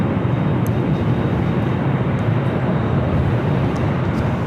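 A Western airliner on final approach to runway 24 right at Los Angeles International Airport, its engines a loud, steady broadband roar that holds constant from start to end.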